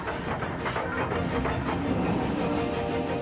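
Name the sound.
steam locomotive train running on rails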